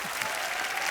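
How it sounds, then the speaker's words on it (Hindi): Applause from a television comedy studio audience, steady and dense throughout a brief moment. "एक बार जोरदार तालियां बच्चा के लिए"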